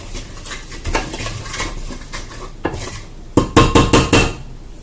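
Food stirred in a pot with a utensil, loud clanking and scraping against the metal, irregular at first and then a quick run of sharp knocks near the end.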